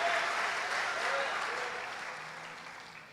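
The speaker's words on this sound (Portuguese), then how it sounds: "Então você pode aplaudir a Jesus e glorificar o nome dele" A church congregation applauds steadily, the dense clapping filling the room and slowly easing in loudness over a few seconds.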